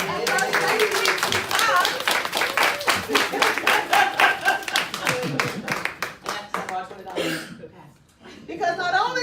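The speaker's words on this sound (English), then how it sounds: "y'all give them a round of applause" A congregation-style crowd bursts into dense, loud, rapid clapping for Pastor Joseph and First Lady Ricks, with chuckles and voices mixed in. The applause thins out near the end as talk resumes.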